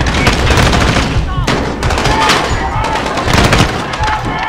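Dense, rapid gunfire from Call of Duty Modern Warfare, continuous automatic bursts with booming impacts, loud and close throughout, with brief pauses between volleys.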